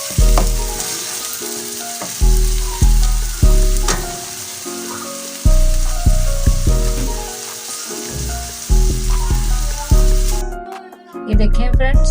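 Three large chopped onions sizzle steadily in hot oil in a pan, with repeated stirring and scraping strokes breaking up the continuous frying hiss, close and loud, no talking.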